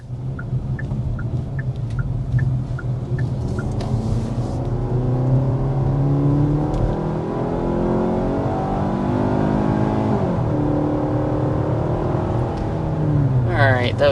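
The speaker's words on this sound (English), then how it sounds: "first we need to start with a hard acceleration" A 2026 Hyundai Tucson accelerating hard on a test drive: the engine rises through several gears with climbing pitch and drops at each shift, loud inside the cabin. Indicator clicks sound at the start and someone talks at the end.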